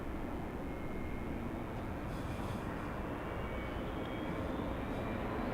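A jet airliner rolls for takeoff on runway 24 left at LAX, a steady broad engine roar holding constant throughout with a faint high whine above it, no voices.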